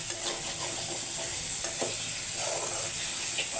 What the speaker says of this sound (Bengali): এই যে মশলাগুলো দিয়ে এখন ভালো করে কষিয়ে নিচ্ছি